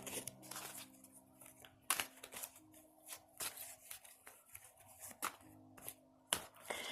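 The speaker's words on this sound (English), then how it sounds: "I'm shuffling some more cards for you so we can get some more information on this" Tarot cards being shuffled by hand, a steady run of close riffling and soft slaps with a few sharper snaps, alone with a faint low hum behind.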